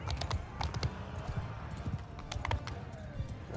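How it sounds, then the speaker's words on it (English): Galloping horse hooves clatter in a dense, rapid clip-clop during a cavalry charge in the medieval combat game Bannerlord, steady and fairly close throughout with no speech. "Horse training right here."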